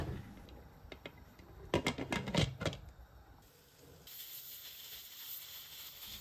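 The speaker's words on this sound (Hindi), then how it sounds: "1 कप मैंने और डाल दिया और प्रेशर कुकर को बंद कर दिया।" A pressure cooker holding mustard greens and bathua for sarson ka saag gives off a faint, steady steam hiss, with a few clattering knocks near the start and the hiss growing slightly stronger toward the end.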